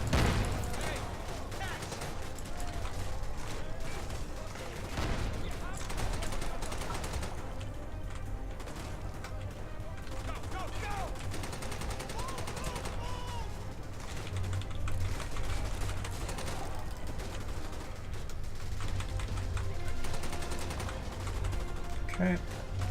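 Gunfire from a World War 2 shooter, Raid: World War 2, with repeated shots and rapid bursts rattling throughout, mixed with mechanical clicks and a voice talking over the fighting.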